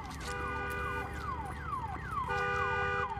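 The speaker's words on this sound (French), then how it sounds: "Putain, faut que je coupe l'alarme," Wailing alarm siren in the video game Days Gone, a loud repeating falling sweep about every half second over steady engine rumble, continuous and alone with no talk.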